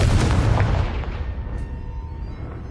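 A Confringo fire-spell explosion in Hogwarts Legacy: one heavy booming blast at the start that rumbles and fades away over about two seconds.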